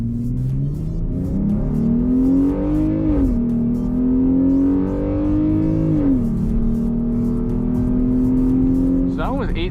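A V6 Jeep launches hard under launch control from about 2500 rpm, its loud engine note climbing steadily, dropping briefly at two gear shifts around three and six seconds, then pulling again, heard up close from inside.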